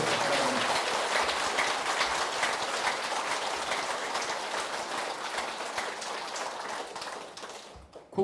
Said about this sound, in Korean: 여러분 큰 박수로 주제에 대한 환영에 박수 주시기 바랍니다